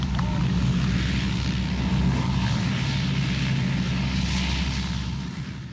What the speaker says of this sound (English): the first of the RAF Hercules lands between the bomb craters on a stretch of runway